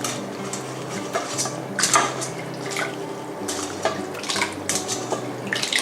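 Blanched bean sprouts are soaked in a bowl of cold water, with gentle sloshing and splashing and scattered clinks of a metal bowl and utensils, fairly quiet with no talk.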